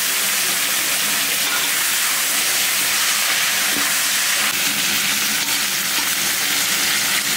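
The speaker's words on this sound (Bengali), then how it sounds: "মাছের মাথা ভাজবো, তার জন্য দিয়ে দেবো সর্ষের তেল।" A hilsa fish head fries in mustard oil in a village kitchen, giving a loud, continuous, close hissing sizzle that stays even throughout with no voices.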